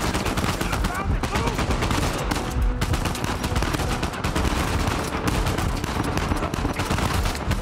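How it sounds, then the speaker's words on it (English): Rapid, dense gunfire from a firefight in Uncharted 4: A Thief's End, set in Scotland, with continuous automatic bursts and overlapping shots loud and close throughout. "Is someone shooting me from below?"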